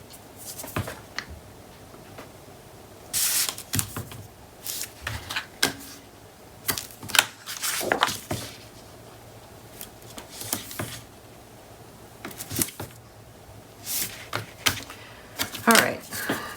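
Adhesive tape being pulled and pressed onto a Graphic 45 Farmhouse scrapbook page in a paper pocket, with scattered crackly tearing and tapping bursts at close range, mixed with background noise.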